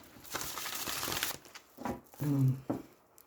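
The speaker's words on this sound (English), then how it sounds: "I'll give it a couple of shuffles" Oracle card deck shuffled by hand, a few quick crinkly riffling bursts of card stock close up, with a brief voiced sound near the end.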